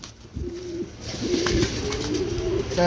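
Pigeons cooing at a busy pigeon market, a few low soft coos rising and falling over steady crowd murmur and background bustle.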